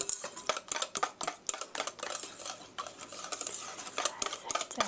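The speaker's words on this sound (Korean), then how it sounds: "살살 저으면서 이렇게 하면 홈메이드 또띠아 반죽이에요" Homemade tortilla dough is stirred in a bowl, giving rapid irregular clinks and scrapes of a utensil against the bowl, close and fairly quiet, with no talking.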